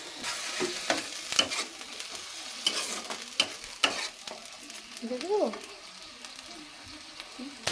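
Garlic and ginger frying in hot oil in a pan, with a close crackling sizzle broken by repeated sharp scrapes and stirs of a utensil, while a voice speaks briefly partway through.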